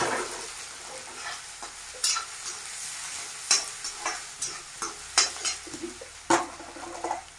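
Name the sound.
frying in hot oil until golden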